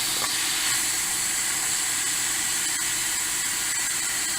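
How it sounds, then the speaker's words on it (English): Steam hisses steadily and loudly from a pressure cooker being vented while beef for barbecue cooks inside, a continuous broadband rush lasting the whole moment with no voices. "let all the pressure out of the pressure cooker"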